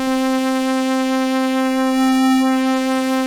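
A single sustained note from the Predator2 synthesizer's upper morph waveform, bright and harmonically dense, holding steady and even in level throughout with slight shimmering movement in its upper partials, with nothing else heard.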